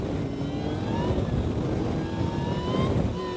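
A 2014 Ariel Atom 3.5R accelerates hard in fourth gear on a wet track. Engine pitch climbs steadily under heavy wind roar and road spray noise, loud and close throughout.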